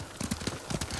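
Horse hooves clip-clop at a steady trot in Ghost of Tsushima, a rhythmic run of close, even hoofbeats that continues through the whole short stretch with no talk over it.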